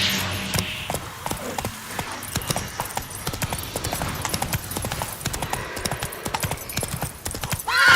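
Roach, Geralt's horse in The Witcher 3, gallops with loud, close hooves clip-clopping in a fast, steady rhythm throughout, with a brief word spoken near the start.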